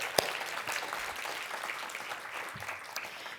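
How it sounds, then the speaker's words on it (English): Audience applause for the staff at a community service awards event, a soft, fairly distant patter of clapping holding steady throughout. "let's give a round of applause to the staff here"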